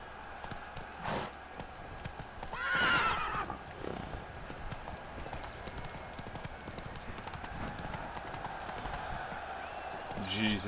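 A horse in The Witcher 3 video game clip-clops along at a trot or gallop, with a loud neigh near the start and hoofbeats continuing under occasional talk.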